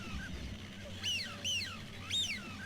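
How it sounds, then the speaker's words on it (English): Three honking waterfowl calls ring out over a low background rumble, each a short nasal, goose-like honk spaced about half a second apart. "it was this waterfowl kind of bird noise."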